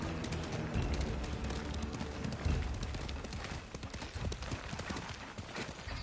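Rhythmic hoof clip-clops of a galloping horse in the video game Ghost of Tsushima, over a dense, noisy game soundscape with bird coos in the background.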